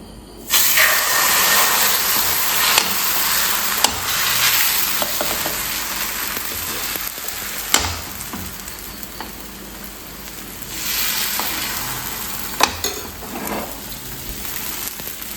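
Homemade batter sizzles steadily in a hot frying pan, a loud continuous hiss with a few clinks and stirring scrapes, swelling again near the end.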